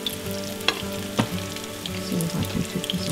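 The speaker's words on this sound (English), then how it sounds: "Now I put each of these schnitzels into the hot oil and I will fry them from both sides for a couple of minutes." Breaded schnitzels fry in hot oil in a pan, a steady close crackle and sizzle with a couple of sharper clatters as pieces are placed or moved, and no talking.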